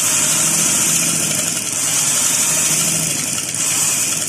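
A sewing machine runs steadily while stitching fabric for a simple shalwar, giving a continuous mechanical hum and rattle at even loudness for the whole stretch, close up with no voices.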